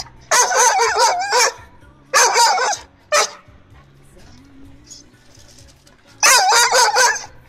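A Siberian husky barks nearby in loud rapid volleys, three clusters separated by a quiet stretch with faint background sound, ending in another burst of barking.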